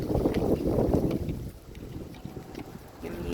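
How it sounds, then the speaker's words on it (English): Gusty wind buffets the microphone in low rumbling bursts, strongest at first and then easing, with faint rustling and no voices. "This weather is gorgeous today, but it's a little windy."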